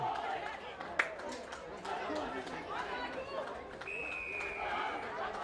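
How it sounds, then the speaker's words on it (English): Spectators at a rugby league grand final between Wentworthville and Parramatta, a steady murmur of chatter and cheering voices from a crowd in an outdoor ground, with a whistle-like tone partway through. "And the crowd all getting into it."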